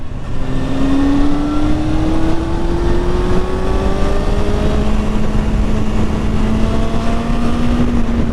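A Honda Hornet 600 motorcycle accelerates hard through the revs, its engine note climbing in a long steady rise, loud and close with wind noise throughout and no talk.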